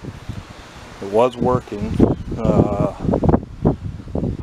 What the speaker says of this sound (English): I'm sorry if this wind's bothering.